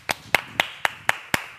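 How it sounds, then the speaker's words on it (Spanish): Six slow, evenly spaced hand claps, sharp and close, from people cheering a cousin in the Gran Hermano house gym, with no talking between them. "Un aplauso para el primo."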